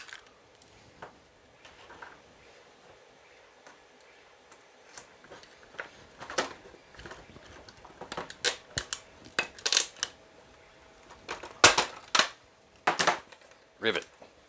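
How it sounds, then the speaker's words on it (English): A pop rivet gun sets rivets while a costume vac suit is built, giving a series of sharp mechanical clicks and snaps that grow louder and more frequent, with crisp pops near the end. "Occasionally, when you pop one of these rivets, you'll get the stem stuck in there."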